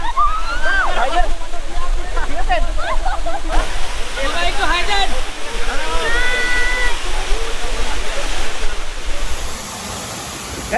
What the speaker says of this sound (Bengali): ফাইনালি আমরা একেবারে ঝর্ণার নিচে চলে আসছি